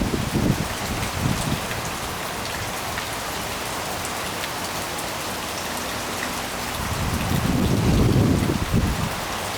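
Heavy rain from Tropical Storm Nicholas pours down in Houston, Texas, a dense steady hiss of drops with gusting wind swelling louder toward the end, with no voices.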